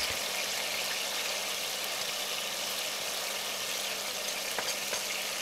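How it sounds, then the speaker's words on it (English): Onion paste and ginger garlic paste for a venison curry sizzle and fry over high heat in a pot, a dense steady hiss with faint stirring scrapes, close and continuous, no voices. "Stir for a minute on high heat"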